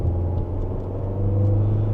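Tata Harrier petrol engine pulling on city roads, heard as a steady, loud low rumble from inside the car that builds slightly toward the end.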